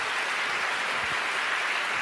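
Steady applause from an audience at a teachers' meeting fills the whole short stretch as a dense, even wash of clapping.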